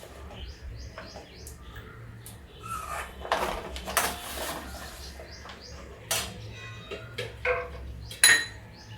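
Fried pointed gourd pieces for a Marwari-style parwal curry tumble into a cooking pan, a few clattering drops and scrapes of a spoon against metal, fairly quiet, with faint birdsong in the background.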